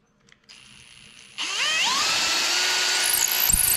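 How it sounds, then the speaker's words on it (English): A power drill whirs up to full speed while boring a hole through wood for a birdhouse, a faint start followed by a loud, steady high whine close by. "I'm gonna drill a hole through there"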